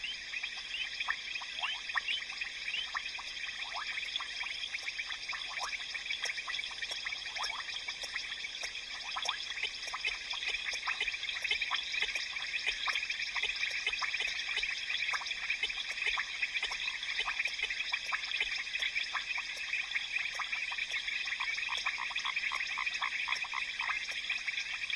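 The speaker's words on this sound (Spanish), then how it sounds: "Las zonas más húmedas del trópico africano son el hogar de una enorme variedad de ranas y sapos." Many frogs and toads calling in humid tropical Africa, a dense chorus of high trilling and clicking calls overlapping continuously, moderately distant and steady, with no voices.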